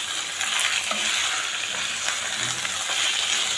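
Onions for a South Indian onion thokku sauté in hot oil in a pan, giving a steady, dense sizzle that stays close and even throughout with no talking.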